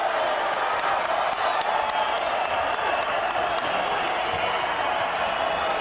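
A boxing arena crowd in El Paso applauds and cheers after a title fight, a dense, steady roar of clapping and shouts filling the space with sharp whoops rising above the wash.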